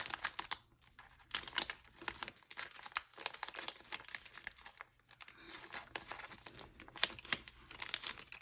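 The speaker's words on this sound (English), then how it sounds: "And let's fold this up nice and neat." Paper cash and envelopes are folded and handled close up, a continuous crisp crinkling and rustling with sharper creases and brief pauses throughout.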